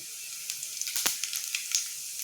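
A spoonful of cumin seeds dropped into hot oil in a pan bursts into a sharp, close crackling sizzle, with a loud flare near the middle followed by scattered pops over a constant hiss, no talk.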